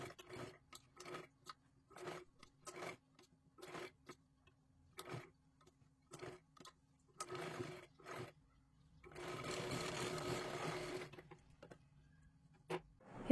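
A sewing machine runs in short bursts, double-stitching lace onto a blouse sleeve, with rhythmic stitching pulses and pauses, then one longer steady run near the end, quiet and close by.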